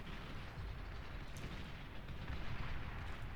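Bombing run explosions in the strategy video game Beyond All Reason, a continuous low rumbling barrage of overlapping booms that swells slightly toward the end, distant and muffled, with no voices.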